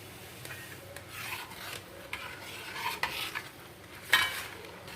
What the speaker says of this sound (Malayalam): കൈയെടുക്കാതെ ഇനി ഇളക്കിക്കൊണ്ടിരിക്കണം.